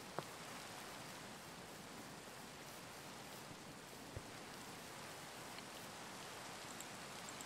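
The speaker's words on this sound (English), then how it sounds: "It's gotta be inside. It's raining." Rain in the video game Minecraft, a steady even hiss of falling drops that continues unbroken throughout, with a couple of faint clicks and no voices.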